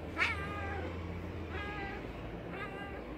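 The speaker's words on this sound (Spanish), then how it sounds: "cuando toca maulla, miren" A cat meows three times, the first cry loudest and the next two softer, spaced about a second apart against quiet background noise.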